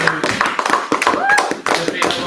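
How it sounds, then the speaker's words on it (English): A small group at a Maker Faire bead-breaking activity gives a round of applause for a child, with brief scattered claps mixed among overlapping voices and chatter nearby. "Let's give her a round of applause."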